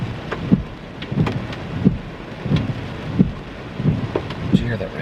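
Steady rain during a New Year's Eve storm, a constant dense hiss with soft low thumps recurring at an even rhythm and no clear thunder rolls.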